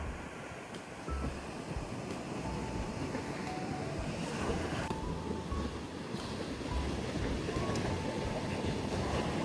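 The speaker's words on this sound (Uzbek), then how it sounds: "Okeanni ko'ringlar demaysizlarmi?" Ocean surf rolls in steadily, a continuous broad wash of breaking waves with no voices, the roar swelling slightly after the first second and holding loud and close throughout.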